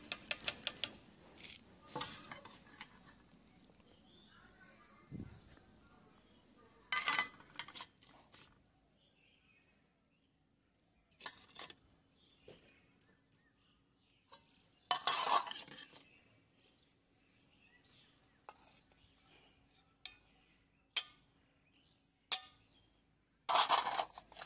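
Utensils clinking against dishes while dal is served onto rice at home, with scattered sharp metallic taps and scrapes separated by quiet gaps, faint background noise between them.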